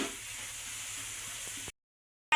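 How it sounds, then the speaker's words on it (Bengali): Garlic, onion and green chili fry in hot oil with a steady, close sizzle for under two seconds, then cut off into silence and a short loud burst at the end. "রসুন পেঁয়াজ কাঁচামরিচ দিয়ে ভেজে নিচ্ছি"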